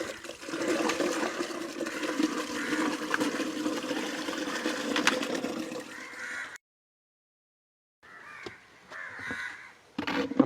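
Liquid waste pours into a home biogas plant with the lid open, a close, gurgling rush of water lasting several seconds. It stops abruptly, then quieter splashing resumes, while crows caw in the background.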